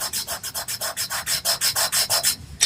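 Pastel pencil being rubbed into paper for a sunset drawing, a rapid run of about fifteen rhythmic scratchy strokes, close and fairly loud, with no voices.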